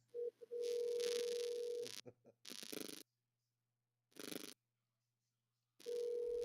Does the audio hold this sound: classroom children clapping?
no